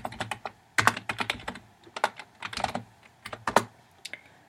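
Keystrokes on a computer keyboard as a login name and email address are typed in, irregular bursts of close, crisp clicks with short pauses between words, no voices.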